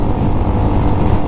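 A 2022 Honda Monkey 125 motorcycle engine runs with a steady, dense low rumble, loud and close throughout, with no talk over it.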